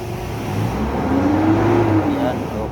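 A Mitsubishi Montero engine revs up close after trouble codes P1275, P1274 and P0093 were cleared, climbing steadily in pitch, holding and then easing back over a constant idle rumble.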